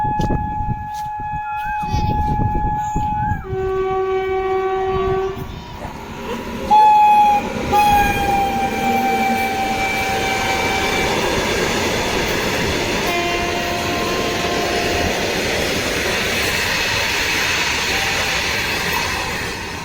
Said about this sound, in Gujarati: ટ્રેને આવે છે પાછળ પાછળ